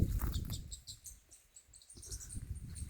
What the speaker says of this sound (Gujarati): ઘડીક આપણે બોલતા બંધ થાવી તો પક્ષીનો અવાજ સંભળાય ને.